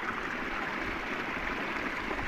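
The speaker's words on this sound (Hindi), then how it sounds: "देखो ये इस तरह से खेत में पानी पाया जाता है सभी को" Water flows steadily through a farm field in a continuous, even rush of moderate loudness, with no breaks or voices.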